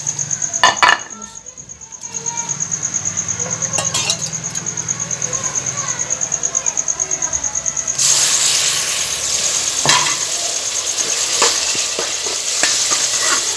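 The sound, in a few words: frying and stirring tomatoes with masala in a pan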